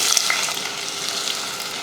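Whole spices (clove, cardamom, star anise, cinnamon, bay leaf) and a large onion fry in hot oil, a steady, close, bright sizzle throughout with no voices.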